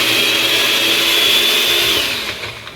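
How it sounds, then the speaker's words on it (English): A kitchen blender runs steadily and loudly, whirring water and soaked ingredients for Gujarati patra and khandvi into a smooth paste, easing off slightly at the end. "So I'll put this in the blender."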